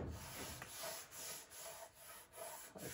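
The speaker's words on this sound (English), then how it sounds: "And then we'll just sand that out." Sandpaper rubs back and forth over a hand-carved wooden guitar neck in quiet, rhythmic strokes, about seven even passes of soft gritty scraping at close range.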